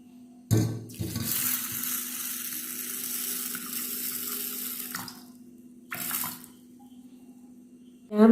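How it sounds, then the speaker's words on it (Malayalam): Water is poured from a vessel over washed green gram and raw rice set to soak, a steady splashing rush with a short burst near the start and another near the end, with no talk. "വെള്ളം ഒഴിച്ച് വയ്ക്കാം"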